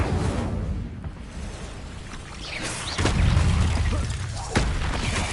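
Incendio fire spell cast in Hogwarts Legacy, a soft whooshing ambience broken by two sharp fiery bursts a little over a second apart.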